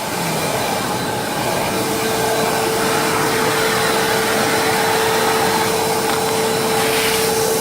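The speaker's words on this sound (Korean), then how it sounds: "노즐을 끼워서 청소기를 켜면 센 바람이 나서 옷이라는 걸 끌 수 있게 됩니다" A vacuum cleaner with its nozzle attached runs steadily throughout, a loud continuous whooshing roar with a faint steady whine, alone with no talk.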